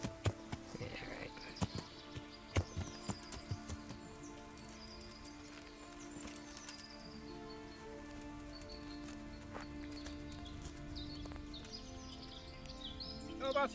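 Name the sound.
horses clip-clopping in the video game Kingdom Come Deliverance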